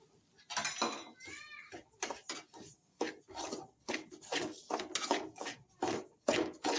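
A spoon stirs apple kesari in a pan, giving repeated quiet scrapes and clinks in an uneven rhythm with brief squeaky tones.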